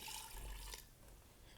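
Water pours into a cooking pot of keema with turmeric, salt and spices, a brief splashing wash that is loudest early and eases off after under a second, with no one talking.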